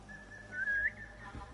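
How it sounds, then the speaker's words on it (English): Whistle from the player character in Assassin's Creed Mirage, a single rising tone held about a second over quiet game ambience, followed by a soft thud. "Whistling doesn't affect him."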